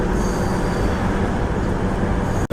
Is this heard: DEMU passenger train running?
yes